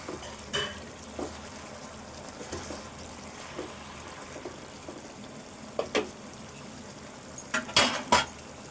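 Tomatoes added to a pan of chicken soup and stirred, soft sizzling in the background with sporadic spoon scrapes and clinks against the pan, growing busier toward the end.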